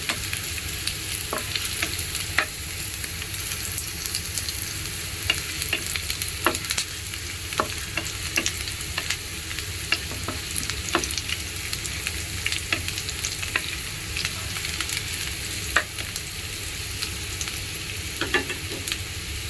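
Ginger frying in a pan while being stirred, a steady broad sizzle with scattered clicks and scrapes from the utensil throughout, moderately loud with no talking.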